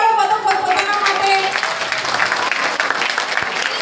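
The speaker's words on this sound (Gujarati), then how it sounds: "જોરદાર તાળીઓ પાડો બધો પોતાના માટે" Sustained crowd applause from an audience welcoming guests at a cultural programme, steady and fairly loud throughout, with a held musical tone fading early on.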